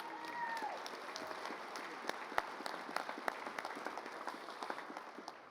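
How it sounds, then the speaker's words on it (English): Large outdoor audience applause at a Hall of Fame induction for an aerobatic squadron, a steady spread of distant clapping with a few sharper individual claps standing out, fairly quiet overall. "Please give them a huge applause."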